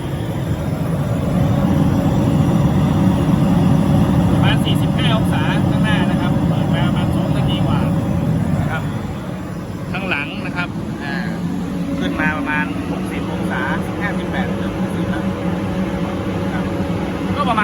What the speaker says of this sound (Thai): ปล่อยเครื่องทำงานไปนะครับ